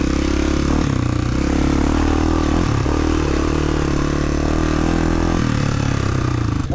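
A Honda XR400 motorcycle engine idles steadily while climbing uphill, its low, continuous chugging thrum close and loud throughout, with a little mechanical clatter and no talk.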